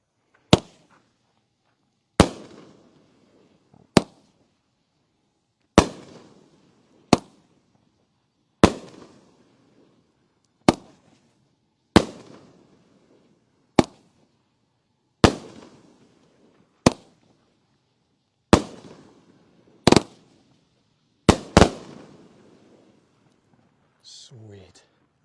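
Cannon Fire consumer firework shots boom one after another, about fourteen sharp loud reports spaced roughly every second and a half, each followed by a short crackling tail.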